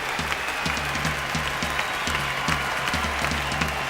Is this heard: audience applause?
yes